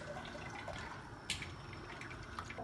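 Blanched mint squeezed by hand, water trickling and dripping out in faint, soft splashes with a brief louder spatter midway, no talking.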